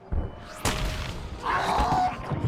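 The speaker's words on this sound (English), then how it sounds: "the maniacs are running from the fireworks" Fireworks go off in Batman: Arkham Asylum during the finale: heavy booms and crackling bursts, with a loud thud near the start and a sustained blast partway through.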